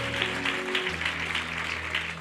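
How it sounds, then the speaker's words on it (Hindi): A church congregation claps together during a Sunday service, a steady crowd patter at moderate level. A sustained tonal hum, like organ or keyboard, runs underneath the applause. "तालियां बजा के प्रभु को धन्यवाद करेंगे।"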